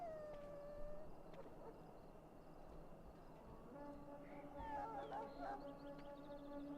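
A dog in the Dragon Age Origins video game lets out a drawn-out howl over a busy game soundscape, with the wavering cry rising more clearly toward the end.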